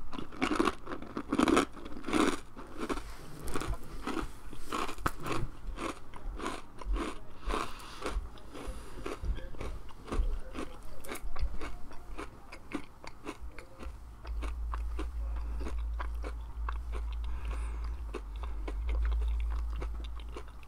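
A crunchy fortune cookie being bitten and chewed close to the mic, with repeated crisp crunches and mouth sounds at an irregular rhythm, then a low steady hum in the later part.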